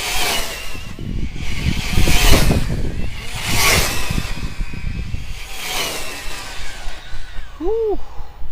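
Arrma Typhon 3S BLX brushless RC buggy driven at full throttle on a street, a whining electric motor rising and falling in repeated surges, passing near and away, with a brief high chirp near the end.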